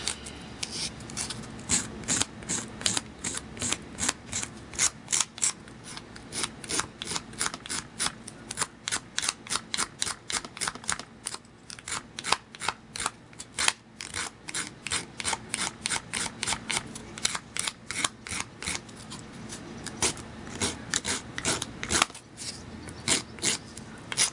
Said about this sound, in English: you're going to take your nail file and you're just going to clean up your edges